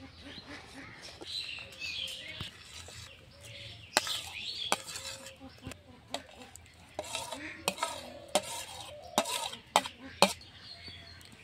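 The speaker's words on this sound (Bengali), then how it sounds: "এর মধ্যে আমি ছানাটা দিয়ে দিচ্ছি।" Chhana milk curds stirred into thickened sweetened milk in a pot, with repeated sharp clinks and scrapes of a spoon against metal over a quiet background, a bird chirping faintly at times and occasional soft voices.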